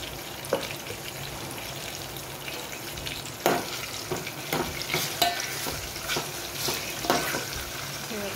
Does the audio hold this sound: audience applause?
no